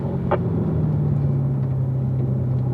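A car accelerating on the Spring Mountain race track, a steady close engine drone holding a constant pitch without a clear gear change.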